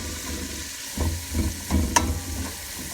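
Garlic stirred into a frying pan while making beef bone broth, a steady sizzle with a few scraping stirs of a utensil against the pan, close up and with no talking.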